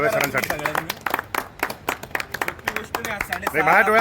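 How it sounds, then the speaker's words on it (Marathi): Scattered hand claps from a crowd at a gathering of Nashik newspaper vendors, broken and uneven, sounding under a man's continuous loud speech rather than as a full ovation. "एकदा टाळ्या होऊन जाऊ द्या"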